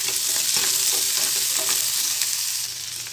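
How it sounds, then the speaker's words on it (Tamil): Garlic, onion and green chillies sautéing in a hot pan, a steady close sizzle and frying hiss with a few soft stirring scrapes throughout, no voices. "பூண்டு வெங்காயம் பச்சை மிளகாய் நல்லா வதங்கி வரணும்"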